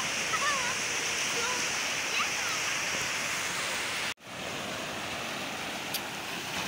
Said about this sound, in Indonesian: Ombaknya mantap banget teman-teman.